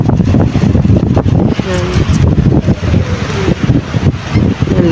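Strong wind buffets the microphone beside a moored fishing boat with flags flapping, a steady roaring rumble under a voice talking throughout.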